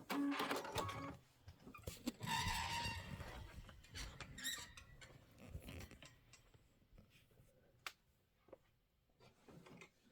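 A sewing machine runs in short bursts while back stitching on a quilt block, whirring and clattering close by, then fading to sparse small clicks and handling noises.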